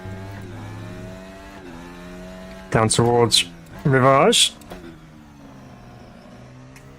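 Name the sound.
RaceRoom FR X-22 race car engine, video game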